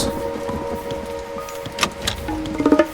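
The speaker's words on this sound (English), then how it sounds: "Use the rain god power to help your farms produce more food." Rain god power being cast in Age of Mythology: a soft, steady patter of falling rain with a low rumble, joined near the end by a few brighter chiming game tones.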